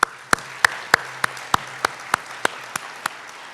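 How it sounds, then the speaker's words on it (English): About a dozen sharp, evenly spaced claps ring out in a slow, steady rhythm at a Ramsey County draft day event, each one crisp and fairly close, with quiet room noise between them. "Let's give Ramsey County a round of applause."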